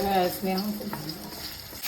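Cauliflower and potato fry in a pan while being stirred, giving a soft sizzle with light scraping and a faint clink of utensils, and a voice is heard briefly at the start.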